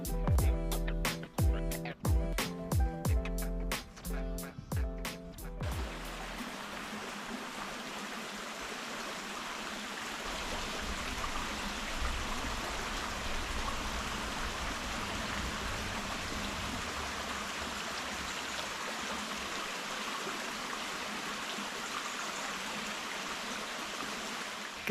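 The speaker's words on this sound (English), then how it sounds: "I fell asleep with the sound of water, which is awesome." Water stream flowing steadily through a forest along a hiking trail in Luxembourg's Müllerthal region, a continuous broadband rush and trickle, close and fairly loud, after several seconds of sharp clattering knocks at the start.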